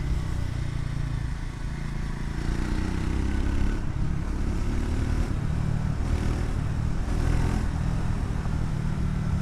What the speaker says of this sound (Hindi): I am loving this motorcycle